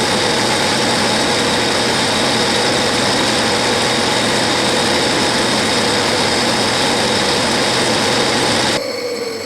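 A metal lathe turns down a shoulder on a small index pin for a gear cutting fixture, a loud, steady machining whine and drone that runs throughout, then cuts off abruptly near the end.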